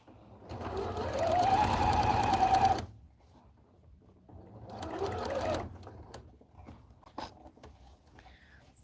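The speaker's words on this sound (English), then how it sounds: "you're taking all of the seam allowance and pushing it towards the lining and doing your top stitching, which is also considered understitching" Sewing machine top stitching, or understitching, the lining of a Belle princess costume: two runs of steady mechanical whirring, a long burst followed by a shorter one, close and fairly quiet, with a pause between them.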